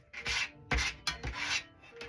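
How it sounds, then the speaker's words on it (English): Metal bench scraper scooping chopped red pepper off a cutting board: three or four close, raspy scraping strokes in quick bursts with short pauses, no talking. "I need to get my little bench scraper here to scoop this all up."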